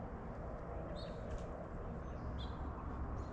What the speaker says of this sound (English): don't know if the camera is picking up all the birds chirping and singing